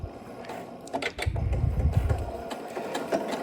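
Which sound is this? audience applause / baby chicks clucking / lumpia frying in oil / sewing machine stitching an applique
sewing machine stitching an applique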